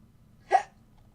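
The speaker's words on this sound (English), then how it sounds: "Excuse me, I have hiccups." A single short hiccup from a person, sharp and close, rising abruptly out of near silence and fading within a fraction of a second.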